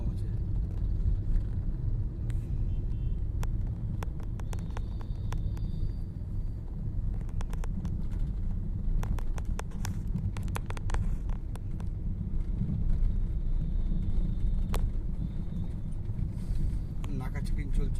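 Light night traffic on a city road near Shobhabazar metro station, a low steady rumble of passing cars with wind buffeting the microphone, while someone talks over it throughout.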